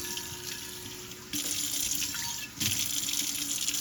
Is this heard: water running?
yes